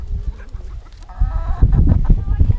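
Farm chickens clucking close by in a busy outdoor flock, steady overlapping clucks and short calls building in loudness, with no talk over them.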